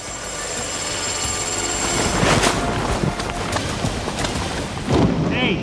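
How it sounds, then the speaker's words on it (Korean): A Black Hawk helicopter during air-assault training makes a loud, steady rotor and engine roar with broadband rushing noise throughout, close by. "이번 훈련은 블랙호크 헬리콥터를 타고 적의 허를 찌르는 공중 강습 훈련."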